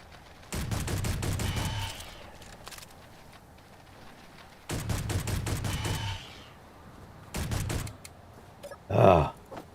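Bursts of rapid automatic gunfire from a weapon in the space game Space Engineers, three sustained volleys separated by pauses, then a short final burst, fairly close and alone without talk.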